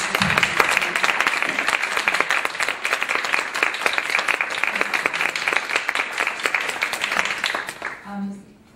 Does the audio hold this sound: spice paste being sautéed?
no